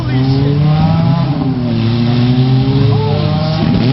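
Mazda RX-7 rotary engine revving loudly and close, a sustained aggressive drone with rising and falling pitch sweeps as the throttle is blipped, with faint voices underneath.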